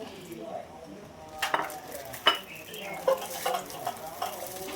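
Northern Thai beef laab is tossed with laab chili in a bowl, making soft, irregular scraping and stirring knocks up close, with a few sharper clinks.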